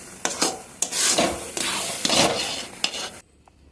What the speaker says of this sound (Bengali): এখন ইচ্ছে করে নাড়ার মধ্যে রাখতে হবে